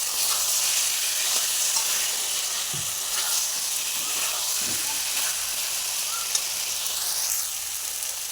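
Potatoes sizzling in a pan for jackfruit kofta curry, a constant hissing fry with a few soft stirring knocks, close and even in level throughout.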